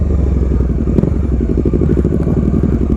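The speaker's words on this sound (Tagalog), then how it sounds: "Kumakanta yung mga tambutso." Several big bikes on a group ride rumble and rev their exhausts together, a loud, continuous, throbbing engine drone with a brief sharper burst near the middle.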